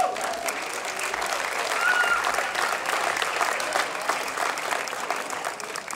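A crowd at a park grand reopening gives a steady, sustained round of applause, dense clapping with scattered voices mixed in at moderate distance.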